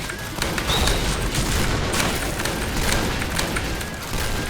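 Dense, continuous gunfire and booming blasts in the online shooter Point Blank, loud and unbroken as a weapon is emptied down to its last rounds.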